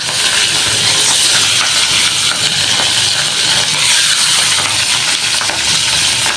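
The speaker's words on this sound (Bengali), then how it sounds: "পাক্তা মাছ ছিটে একটু ঘুরে থেকে ভাজতে হয়" Pabda fish fries in hot oil with loud, continuous hissing sizzle and spattering, close and intense without letting up.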